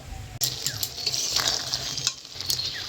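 Garam masala and black pepper powder being stirred into a Bengali posto prawn roast in a pan, with steady close scraping and sizzling of the gravy and a few sharp utensil clinks throughout.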